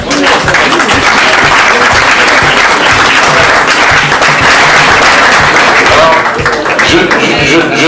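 Loud, steady applause from an audience at an evening film commission gathering during a festival in Cannes, dense clapping that holds without break throughout, with some crowd murmur mixed in.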